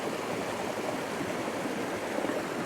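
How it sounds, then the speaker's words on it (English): A creek near Barrett Lake flows in a soft, steady wash of running water, faint and continuous with no voices. "Look at that creek coming down."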